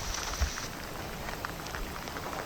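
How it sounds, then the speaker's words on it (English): Heavy rain pouring down on the east coast of New Zealand's South Island in the Kaikouras, a steady dense hiss of drops with a soft thud near the start and no talking. "it is raining. It is really, really raining."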